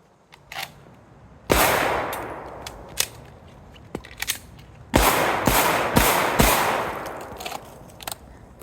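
Sharp, loud gunshots crack out one after another while the shooter moves, some in quick clusters and others spaced apart, with each report ringing briefly before the next.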